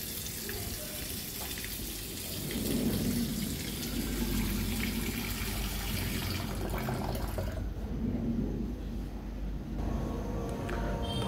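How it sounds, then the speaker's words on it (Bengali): Raw beef being washed thoroughly in water, with a steady splashing, running-water sound that continues throughout at close range and moderate loudness, with no talking. "খুব ভালোভাবে ধুয়ে নেব।"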